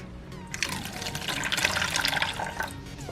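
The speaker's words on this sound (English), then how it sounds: "Now I'm going to pour this into a strainer." Liquid splashing and pouring steadily into a strainer for a few seconds, a continuous watery rush close by with no talking.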